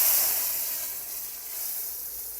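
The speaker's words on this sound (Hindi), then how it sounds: "तो यहाँ पे जो है दाल को तड़का लग चुका है।" Hot oil tempering (tadka) poured onto cooked dal gives a bright, hissing sizzle that starts strong and slowly fades over a couple of seconds.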